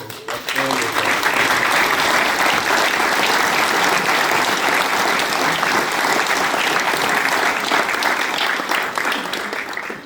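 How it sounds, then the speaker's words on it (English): An audience at a public address gives a sustained round of applause, dense and steady, filling the room loudly for the whole stretch without letting up. "I want to give a special round of applause to the Ring office."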